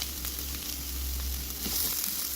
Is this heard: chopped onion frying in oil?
yes